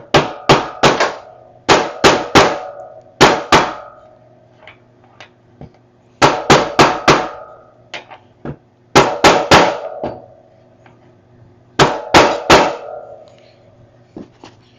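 A hammer tapping an axle into a 1983 CW Phaze One cruiser bicycle frame: sharp metallic blows in quick bursts of three or four, separated by short pauses, close and loud with no talk.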